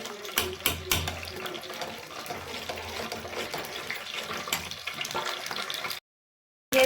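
Onion pakoras (pyaji) fry in hot oil with a steady, close hiss and crackle that carries for about six seconds before cutting to near silence.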